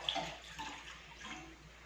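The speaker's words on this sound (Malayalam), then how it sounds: "പാൽ അതിലോട്ട് ഒഴിച്ചു കൊടുക്കുക" Quiet, soft trickling of milk being poured into a pot for sweet milk, a steady gentle splash heard close up with no talking.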